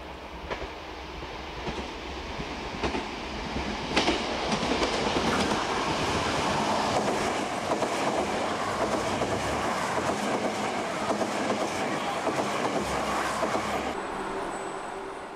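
A trolley train and the Tango Discovery train on the San'in Line rumble past with rhythmic clickety-clack of wheels over rail joints, a steady loud rolling roar through the whole stretch, no talking.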